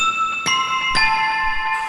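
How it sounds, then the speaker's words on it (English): Bright xylophone-like bell tones struck sparsely in a slow beat, each note ringing out with a clean, sustained shimmer. "Tyler has these xylophone bells a lot."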